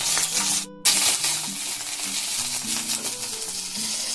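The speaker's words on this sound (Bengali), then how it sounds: "এখানে দিচ্ছি কাঁচা লঙ্কাগুলো মাঝখান দিয়ে কেটে রেখেছি, কতগুলো কারিয়া পাতা আর এক ছোট চামচের 1 চামচ হচ্ছে 5 ফোড়ন এখানে দিয়ে দিলাম" Green chillies slit down the middle, curry leaves and a spoonful of panch phoron sizzle and crackle in hot oil in a pan, a loud steady frying hiss throughout with a brief drop near the start, no talking.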